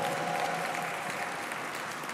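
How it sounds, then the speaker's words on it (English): Audience applause fills a room at an awards dinner, a steady wash of clapping that carries on evenly for the whole stretch without any voices on top. "Let's give her staff a round of applause as well."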